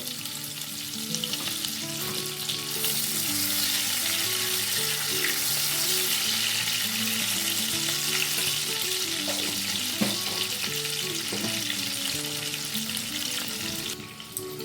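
Chopped tomato with a pinch of salt fries in a pan of hot tempered oil, a dense, continuous close-up sizzle that holds steady and then eases off at the very end.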